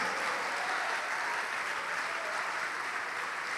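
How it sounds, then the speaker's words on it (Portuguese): A church congregation applauds in a continuous, dense roar of clapping that stays fairly even and moderately loud from start to finish. "vamos aplaudir mais"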